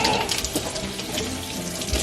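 Steady stream of tap water running into a sink, a continuous splashing rush with no pauses.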